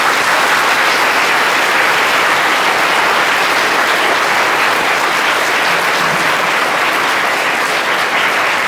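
A large group of school students applauds in a hall, a dense, steady wash of clapping that stays loud and even throughout without a pause.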